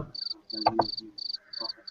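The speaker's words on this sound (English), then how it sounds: "Crickets. Does that mean it's summer?" Cricket chirps play as a comedic sound effect, arriving in regular short bursts of high, rapid trilling, with brief low thumps of other sound between them.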